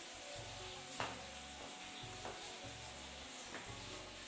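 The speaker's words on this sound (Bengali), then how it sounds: "চলো এখানে মাছ ভাজা হয়ে গেছে" Fish fries in a pan with a faint, soft sizzle. Quiet stirring and scraping sounds come in a loose rhythm, with a low hum underneath.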